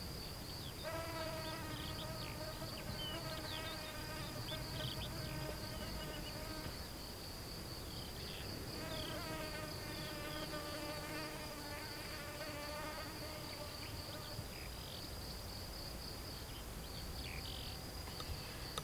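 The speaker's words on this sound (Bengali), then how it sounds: "এক টানা ঝিঝি পোকার ডাক" Crickets chirp in a steady, unbroken high-pitched drone in a quiet hillside village near Kalimpong, with layered trilling insect calls rising and falling over it and no voices.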